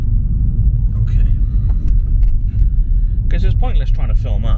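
Engine rumble fills the cabin of a car driving at night, a steady low drone that holds throughout while people talk briefly over it near the end.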